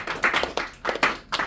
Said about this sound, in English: Round of applause for both of you.